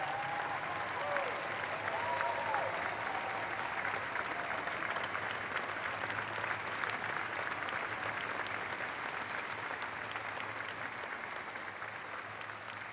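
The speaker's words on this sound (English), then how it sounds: "would you join me in giving a vigorous round of applause to Commander Bob Behnken and Commander Doug" An audience at Kennedy Space Center applauds the American astronauts Bob Behnken and Doug Hurley with a sustained, steady roar of clapping from a large crowd that holds for the whole stretch, with faint cheers early on.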